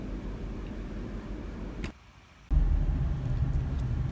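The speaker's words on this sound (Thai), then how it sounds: "ตอนนี้ผมขับรถมาจังหวัดปราจีนบุรีนะครับ" A Ford Ranger Wildtrak pickup truck drives along a road in Thailand, giving a steady low engine and road rumble that briefly drops away before returning louder.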